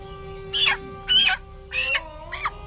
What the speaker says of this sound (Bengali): এই যে ধরেন ব্রয়লার মুরগি নিয়ে আসলাম।